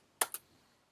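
Two quick clicks of keys being typed on a computer keyboard, close and crisp, in a quiet room with no talking.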